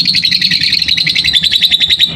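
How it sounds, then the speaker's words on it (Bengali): Lovebirds in a cage on a bird farm chirping loudly and close, a rapid run of high, repeated tweets in a steady rhythm with no voices. "এই যে পাখিগুলো চিল্লাচ্ছে খাঁচার ভিতরে"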